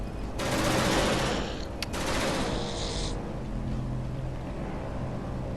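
An automated turret in the sci-fi game Genesis Alpha One fires at a creature, a loud sustained rattling burst lasting a few seconds, then a lower steady mechanical hum as the shooting stops.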